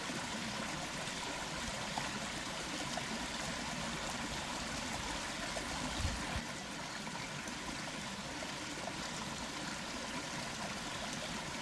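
A clear mountain river flowing over pebbles makes a steady, dense rush and babble that stays even and close throughout, with no voices.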